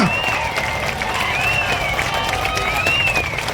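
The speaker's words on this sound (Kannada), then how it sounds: "ನಮ್ಮ ಗೃಹ ರಕ್ಷಕರು ಚಪ್ಪಾಳೆಯ ಮುಖಾಂತರ ಜೋರಾದ ಚಪ್ಪಾಳೆಯ ಮುಖಾಂತರ" A crowd of home guards claps loudly to welcome a guest from Andhra Pradesh at a Bengaluru gathering, a steady dense wash of applause with a faint tonal whistle riding on top.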